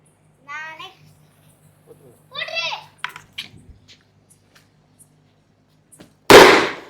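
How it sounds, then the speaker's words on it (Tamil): Children's voices chatter briefly, then a single loud, sharp firecracker bang bursts out underwater near the end and cuts off quickly. "தண்ணிக்குள்ளே வச்சாலும் அந்த பட்டாசு வந்து வெடிச்சிருச்சு"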